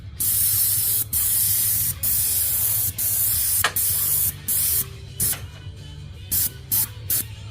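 Bursts of a Graco low-pressure airless paint sprayer hissing loudly while painting a house, long sustained blasts at first, then shorter, choppier spurts, over a low steady motor hum.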